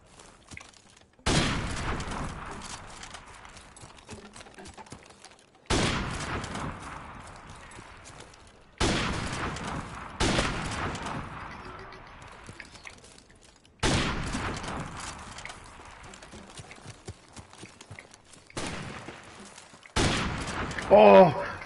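Gunshots in a one-on-one video game match ring out as about six sharp bursts spaced a few seconds apart, each with a decaying tail over a quiet background.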